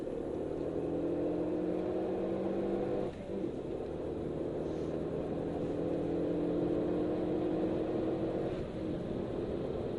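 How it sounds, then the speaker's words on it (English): Ferrari on the Silverstone circuit accelerating, a steady engine drone heard from inside the car with a brief dip partway through, moderately loud and with no talk. "And then accelerate up the right hand side for me."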